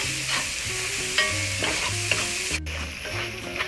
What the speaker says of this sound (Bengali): আমরা মশলাটা একটু ভালো করে কষিয়ে নিচ্ছি।